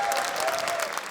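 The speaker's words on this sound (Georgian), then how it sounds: "გუხარი აპლოდისმენტები ბავშვებს" Audience applause for children at a Georgian league festival, a dense burst of clapping from a hall crowd, steady and fairly close, lasting about a second.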